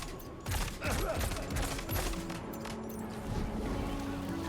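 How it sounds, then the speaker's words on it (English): Dense, continuous gunfire crackles in the video game Death Stranding 2, with rapid overlapping shots and mechanical clatter filling the whole stretch. "Enemies heard a gunshot."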